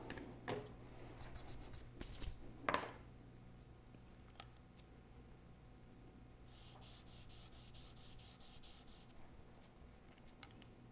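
A clarinet reed is sanded by hand, giving soft, close rubbing swipes, a few louder strokes early on, then a quieter run of quick repeated scrapes.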